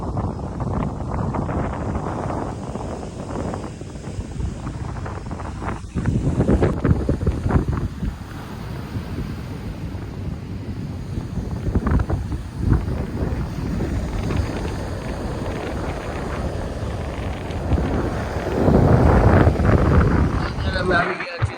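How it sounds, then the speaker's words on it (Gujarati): Strong coastal wind buffets the microphone on the Diu shore, with gusty rumbling surges and sea noise underneath, loud and continuous throughout. Someone talks over it now and then. "દરિયાનો અવાજ જો જેટલો પણ અવાજ આવે છે ને બધો પવનનો અવાજ આવે છે"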